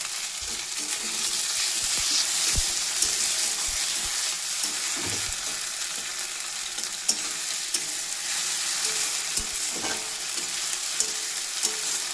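Onions fry in a pan for a loitta fish curry, a steady close sizzle with irregular scrapes and clinks of a spoon stirring throughout, no voices.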